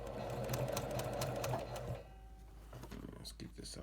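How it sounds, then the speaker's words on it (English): A sewing machine runs steadily, stitching fabric along the seam allowance line with a rhythmic mechanical hum for about two seconds, then stops while faint handling noises follow. "we'll put our presser foot down and we'll sew"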